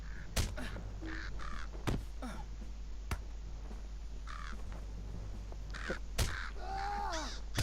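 Several crows in the game Lord of the Rings Online give repeated harsh caws at irregular intervals, some near and some farther off, over a steady low ambient hum with occasional sharp clicks.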